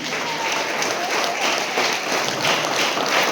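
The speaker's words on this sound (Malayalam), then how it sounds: "കുട്ടികൾ നല്ലൊരു കൈയടി കൊടുക്കാം പരസ്പരം" Children clapping together at a Sunday school assembly, a dense, steady burst of applause from a group that holds at an even level throughout, with no speech over it.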